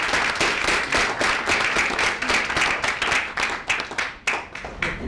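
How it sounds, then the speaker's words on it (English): Audience applause welcoming Dr. Ervin Laszlo at a United Nations NEXUS Summit salon evening, steady dense clapping from a crowd that holds for several seconds and thins slightly toward the end. "So please give a round of applause for Ervin."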